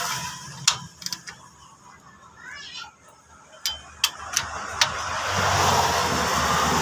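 A hand ratchet clicks in several short, sharp bursts while tightening the nut on a newly installed vehicle axle shaft, close to the mic, with quiet mechanical handling and a steady hiss between the clicks.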